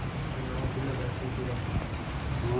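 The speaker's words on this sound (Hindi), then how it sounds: "बारिश हो रही है, मौसम ख़राब है" Steady rain falls at night over Muzaffarabad in January, a dense continuous patter with soft low rumble, while someone talks over it.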